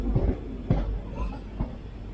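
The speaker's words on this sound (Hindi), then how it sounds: "सो फ्रेंड्स अपनी ट्रेन निकल चुकी है लाल कुआं से।" The Uttaranchal Sampark Kranti Express runs after leaving Lal Kuan, a low steady rumble from inside the coach with a few soft, irregular wheel knocks over the rails.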